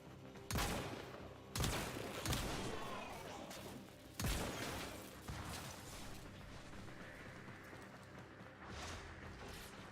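Gunfire in the sci-fi action game Warframe, a few heavy booming shots with long echoing tails, then quieter scattered fire further off, with faint voices underneath.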